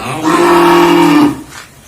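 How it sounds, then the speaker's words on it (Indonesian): One loud, close cow moo, a sustained low bellow lasting about a second at a cattle market, with no talk over it. "Ini sapi yang pertama."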